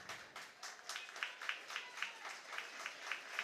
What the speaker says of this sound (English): receiving the applause of the crowd down in front of us